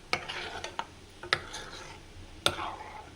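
Hot ghee from homemade ghee-making, stove just switched off, strained through a steel sieve: a few sharp metallic clinks and taps spaced irregularly over soft liquid sizzle and stirring noise, close and fairly quiet.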